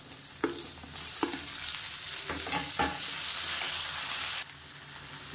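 Onions and tomatoes sauté in a pan with a bright, steady sizzle, punctuated by a few sharp scrapes and knocks of a spoon stirring. The sizzle drops off abruptly near the end.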